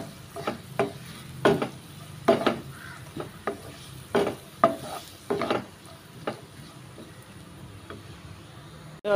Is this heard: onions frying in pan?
yes